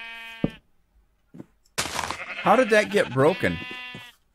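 Sheep bleat in a Minecraft survival world: a clear harmonic bleat opens the clip, then after a pause a person talks while another long, wavering bleat rises near the end, close and fairly loud.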